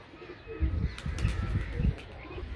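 Pigeons cooing close by in low, throaty bursts, one seemingly sick, with a few sharper high chirps mixed in over a steady outdoor background.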